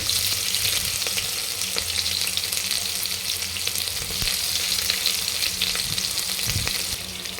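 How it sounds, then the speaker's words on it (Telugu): Thinly sliced onions fry in a pan with a steady, close sizzle, a dense crackling hiss running throughout with occasional stirring scrapes, no voices. "ఆనియన్స్ బాగా మగ్గనివ్వాలి"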